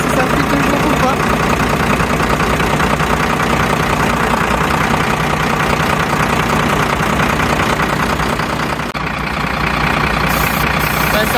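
A camper truck engine running at idle, a loud, steady, close rumble that continues without change for the whole stretch, with one brief dip near the end.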